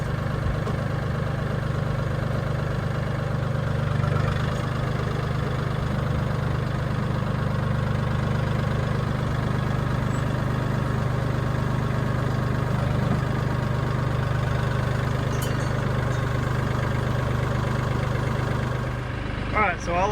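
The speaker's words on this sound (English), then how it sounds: "I'm gonna pull the tractor up to it and see if we can start sweeping this stuff out." A farm tractor engine idles steadily at close range beside a chicken coop, a constant low rumble with a faint knock that continues unchanged for about twenty seconds before a brief disturbance at the end.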